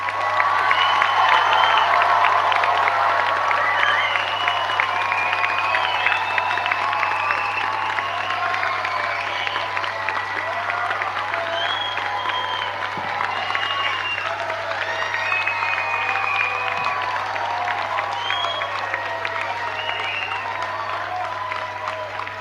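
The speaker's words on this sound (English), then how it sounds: "let's raise this roof with a final round of applause to congratulate our" Nursing and midwifery graduation audience applauding and cheering, a sustained roar of clapping with whoops and shouts from a large crowd, steady and loud throughout with a faint low hum beneath.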